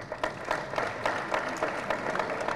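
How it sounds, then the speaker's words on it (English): Applause at an engineering academy annual lecture, a steady patter of many hands clapping in a hall, moderately faint and even, with no clear speech over it. "Can you clap for him?"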